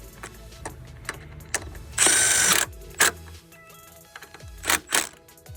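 A ratchet tightening two 10mm bolts on a Honda Civic EG hatch pedal assembly during a manual swap, giving short, close clicking bursts separated by pauses, with one louder extended run in the middle.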